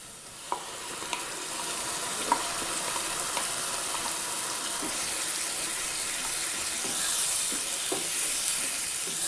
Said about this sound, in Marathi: मला चांगलं आता तेल सुटेपर्यंत याला भाजून घेऊ